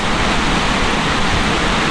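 Rain pours down outside in the countryside before a storm. It makes a dense, loud, even hiss with no break and no voices.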